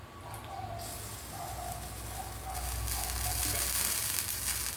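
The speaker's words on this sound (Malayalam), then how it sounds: "നമ്മൾ മീൻകറിയുടെ കൂട്ടെല്ലാം തിളച്ച്" A tuna fish curry mixture bubbles and sizzles steadily in a pan, the hissing growing a little louder and denser toward the end.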